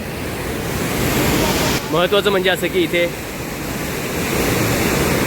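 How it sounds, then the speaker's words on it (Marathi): The flooded Godavari river in Nashik surges beneath a bridge in a loud, steady roar of rushing water that runs throughout, while someone speaks briefly in the middle. "त्या ब्रिजच्या खालून जो पाण्याचा प्रवाह जो वाहतो तो प्रचंड तीव्रतेने आपल्याला वाहताना दिसतो आहे"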